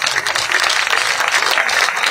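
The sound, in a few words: crowd applause at a rally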